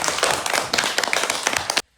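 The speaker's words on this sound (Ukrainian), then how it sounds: "Оплескали!" Applause from a classroom audience at a school autumn celebration, a dense, steady patter of many hands clapping at close range that stops abruptly near the end.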